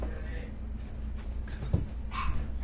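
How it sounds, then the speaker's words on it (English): A dog barks and whimpers in the background during a GTA 5 LSPDFR police gameplay session, with a few short yips over roughly three seconds sitting under a steady low hum. "I apologize for the dog barking in the back"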